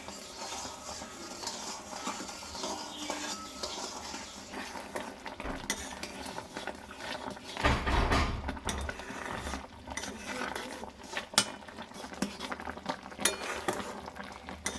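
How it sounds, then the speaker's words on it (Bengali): Mango pickle thickening with jaggery in a pan is stirred steadily, a soft continuous scraping and clinking of a spoon against metal, quiet and close, with no one talking. "এখনও কিন্তু বেশ কিছুক্ষণ ধরে আমি নাড়াচাড়া করছি"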